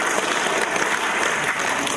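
Dense, steady audience applause fills a lecture hall during an Islamic motivational talk, loud and continuous with no break for the full two seconds.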